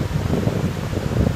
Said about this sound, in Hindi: अभी यहाँ पे काफ़ी तेज़ हवा चल रहा है